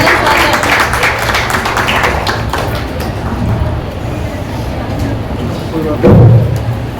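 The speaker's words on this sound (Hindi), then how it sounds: "तालियों के साथ इनका स्वागत करते हैं।" An audience at a seminar session applauds to welcome a speaker, a dense, steady wash of clapping that carries through several seconds, with a louder thump near the end.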